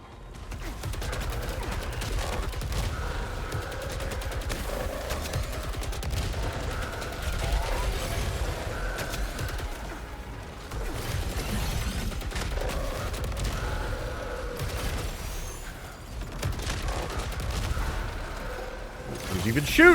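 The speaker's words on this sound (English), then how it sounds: "He's even shooting at me, man." Sustained bursts of gunfire in the video game SAROS roll on for twenty seconds as a dense, continuous barrage with scattered heavier booms, fairly loud and unbroken.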